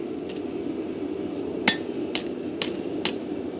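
Four sharp metallic hammer blows ring out on hot steel being folded into a bulldog bottle opener, spaced about half a second apart after a faint earlier tap, over a low steady forge hum.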